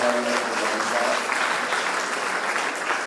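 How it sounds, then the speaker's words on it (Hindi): Audience applause welcoming an Indian cricketer at a public event, a steady, loud burst of clapping that fills the whole stretch with dense, even texture and faint voices underneath. "जोरदार ताली बजा के अभिनंदन करें।"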